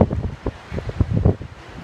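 Gusty wind buffets the microphone on a coastal footpath between Gwithian and Porth Joke in Cornwall, a close, uneven rumble that swells and dips in short bursts.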